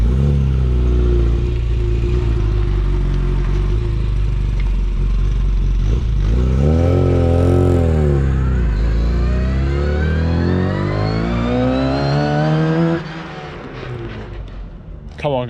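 A Classic Mini with a 1380cc engine and straight cut gears drives past, its loud engine roaring and rising in pitch as it accelerates with a gear whine, then fading after about thirteen seconds.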